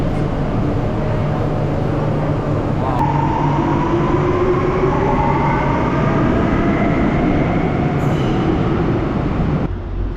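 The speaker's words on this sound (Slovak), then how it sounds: "Pekný vlak." A train on a trip to Malaga rumbles steadily and loudly throughout, with a constant low roar of wheels and rails and faint squealing tones rising over it.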